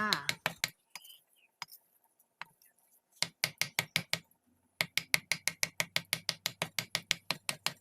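Pork is chopped finely with a knife on a cutting board for Thai fermented pork, giving sharp rhythmic chops that start scattered and then fall into a fast, steady beat close by.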